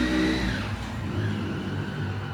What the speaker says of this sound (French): y a trop de voitures